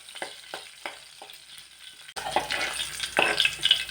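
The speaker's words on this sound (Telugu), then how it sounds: "2 వెల్లుల్లి రెబ్బలు కూడా వేసుకుంటున్నా" Garlic cloves fry in a pan for a cucumber and coconut chutney: a few light clinks of stirring come first, then a sudden loud, crackling sizzle that keeps going close up.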